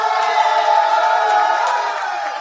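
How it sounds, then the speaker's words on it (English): Recorded studio audience applause from the Talk Heathen call-in show, played back from a stream deck: a steady, dense wash of crowd cheering and clapping at full volume with no break, heard alone. "that is authentic, actual Talk Heathen applause"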